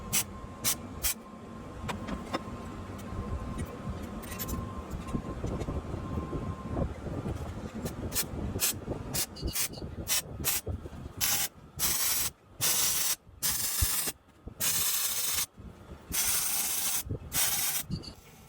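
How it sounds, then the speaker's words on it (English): Welding to seal up a cavity, with a steady crackling hiss that starts and stops in short bursts toward the end, close and loud. "So I'm going to weld this up, no dramas at all."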